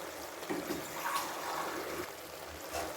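Water poured into a cooking pot while making Tirunelveli idi sambar with tamarind-cooked vegetables, a short close splashing trickle with soft bubbling, quiet and steady.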